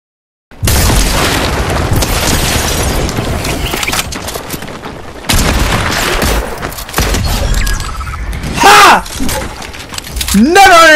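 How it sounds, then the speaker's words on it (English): Quad launcher rockets in Fortnite burst in loud, close booms that run almost without pause, with a short gap and then more blasts, ending in a brief whistling electronic effect. "Never underestimate the power of the quad launcher!"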